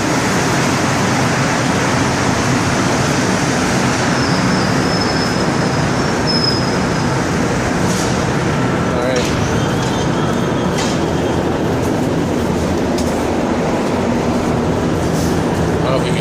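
Interior of a Montreal metro Azur train in motion, a steady loud rumble with wheel and track noise and occasional higher squeals throughout, while someone talks over it.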